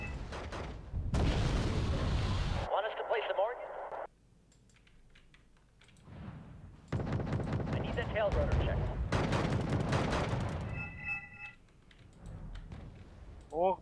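A rapid string of cluster munition explosions in Wargame: Red Dragon, crackling bursts and impacts close together amid loud, dense battle noise, with talking over parts of it.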